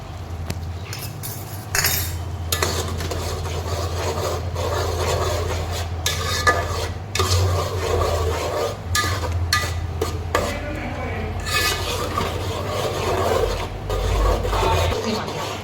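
A spoon scrapes and stirs tomato paste as it sautés in a pan for a Gujarati corn-on-the-cob curry, with repeated metallic clinks and scraping over a soft background sizzle and no voices.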